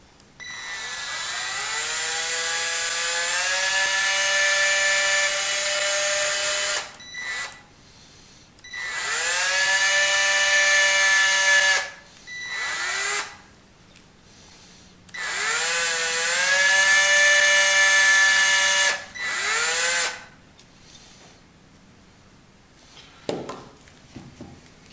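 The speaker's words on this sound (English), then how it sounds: "So I'm going to drill it at about that angle and in line with that clenched fist." A small power drill with a 5/64 bit bores into the arm of a wooden figure, its high whine sustained in several long runs of several seconds with brief pauses, winding down and restarting each time, loud and close.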